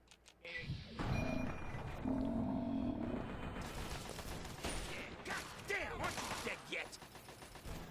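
Rifle fire from a backwater rifle in Fallout 3, shots mixed with growling creature noises and combat clatter, loud at first and continuing as a player talks over it.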